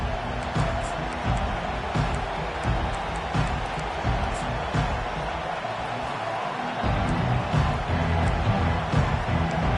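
A college football stadium crowd in Miami versus Michigan cheers and roars as a steady, dense wash of noise. Thuds and claps come through it, and the crowd swells louder near the end.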